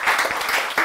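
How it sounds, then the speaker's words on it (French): A short burst of audience applause at a Senegalese francophone Scrabble championship broadcast, a brief, loud wash of clapping. "que je vous demande de bien vouloir applaudir"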